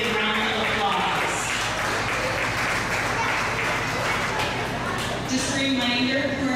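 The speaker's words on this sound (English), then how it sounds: "Let's give all those commercial exhibitors a big round of applause" Applause for commercial exhibitors at a 4-H/FFA rabbit show in Lyon County, Iowa, a sustained crowd clapping that fills the hall continuously, with voices mixed in beneath.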